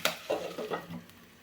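A spoon stirs chopped capsicum in hot oil in a pan, giving a quick run of close scraping strokes over a low sizzle that fades within a second and a half.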